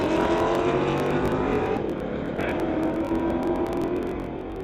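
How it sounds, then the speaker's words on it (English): A 2018 Dodge and a 2003 Mustang drag racing on a street-legal strip, a loud sustained engine roar that slowly fades as the cars pull away, heard from a distance without speech. "Mustang tearing after that Dodge."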